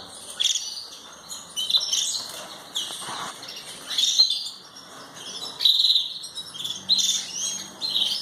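Belgian canaries chirp and trill in a repeated, bright stream of calls, fairly close and steady throughout, with several birds overlapping and no voices.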